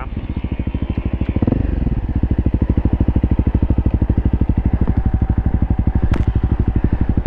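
A dual sport motorcycle strains up a steep hill climb, its single engine chugging in a fast, loud, even thump that bogs under load, very close and steady throughout.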